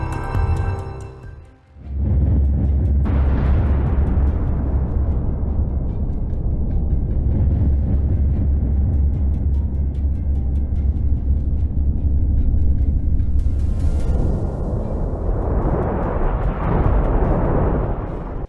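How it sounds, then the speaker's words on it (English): Controlled demolition of apartment blocks: a deep, sustained roar and rumble of collapsing concrete towers that builds after a brief pause and holds for many seconds, with a swelling rush near the end, loud and distant. "The apartment blocks fell exactly as planned during a controlled explosion reducing damage to surrounding areas while creating massive dust plumes"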